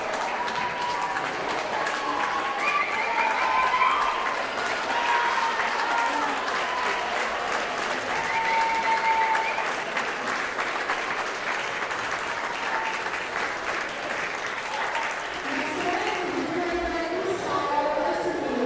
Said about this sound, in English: Getting a good cheer from the crowd.